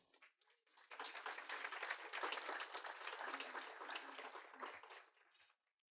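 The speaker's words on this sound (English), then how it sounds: "I'd like us to applaud you as well." An audience at an awards celebration breaks into applause, a dense wash of clapping that swells quickly, holds for several seconds, then fades out abruptly.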